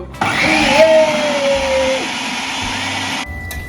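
A food processor chops tomatoes in a home kitchen, starting abruptly with a loud whirring motor roar that runs steadily for about three seconds before cutting off, with a rising whine partway through.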